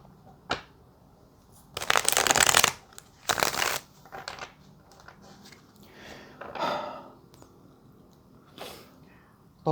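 Tarot cards being shuffled during a love reading: quick papery riffling bursts, one long and one shorter near the start, then softer scattered handling and rustling, close and fairly quiet.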